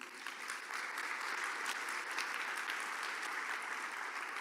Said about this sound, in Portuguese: Dê um aplauso ao Senhor.